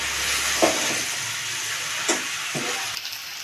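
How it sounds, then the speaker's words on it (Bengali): Fried potato, pointed gourd and soya chunks are tipped into cooked masala in a pan, giving a soft continuous sizzle with a few brief stirring scrapes and knocks over about three seconds. "এবার আমি ভাজা সবজিগুলো দিয়ে দেবো, আলু পটল আর সয়াবিন ওইটা দিয়ে দেবো।"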